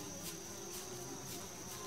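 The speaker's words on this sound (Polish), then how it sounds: "Mucha, idź stąd." A fly buzzes in the Yuppie Psycho video game, a steady droning hum with pulsing swells, close and continuous, with no speech over it.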